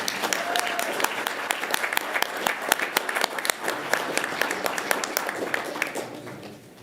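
An audience applauds a student pledge leader named Valentina at a school board meeting, with steady, dense clapping for several seconds before it fades out near the end.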